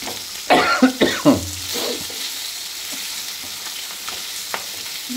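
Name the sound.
cough caused by frying fish and spice smell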